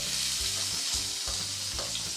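Finely chopped onion frying in hot tempering oil for a monsoon wild-vegetable dish, giving a loud dense sizzle broken by rhythmic stirring scrapes, heard close with no voices.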